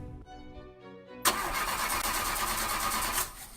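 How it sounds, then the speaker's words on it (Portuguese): A car engine cranks with ignition trouble and then catches, starting abruptly into a loud, steady running rumble in a radio ad, preceded by a quieter, sputtering tonal stretch before the sudden start. "Falhas na partida do seu carro?"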